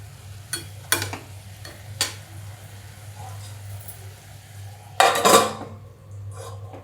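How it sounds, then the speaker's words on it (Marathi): A metal lid clatters onto a pan of cooking mixed leafy greens, several sharp close knocks and a louder rattling clang near the end, over a low steady hum and faint sizzle. "2 मिनिटं झाकण ठेवतो."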